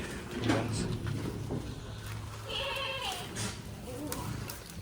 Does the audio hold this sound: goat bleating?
yes